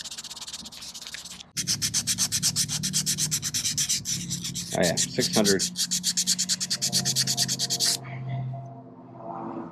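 Fine 3000-grit sandpaper rubs rapidly back and forth on an aluminum overflow tube from a 1995 Corvette C4, a dense rhythmic rasp close up that stops abruptly, with someone speaking briefly over it.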